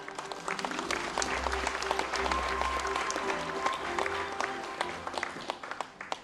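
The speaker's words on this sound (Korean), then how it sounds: "최태원 회장님을 따뜻한 박수로 모시겠습니다" Warm audience applause at a formal business meeting of economic group leaders, a sustained patter of many hands heard from a distance, fairly soft and even, welcoming a chamber of commerce chairman to the podium.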